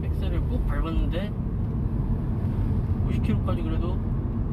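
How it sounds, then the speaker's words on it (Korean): A car whose engine vibrated when cold, with the air conditioning running, accelerates with the pedal pressed hard. A steady low engine rumble runs beneath continuous talking. "지금 엑셀을 꾹 밟았는데"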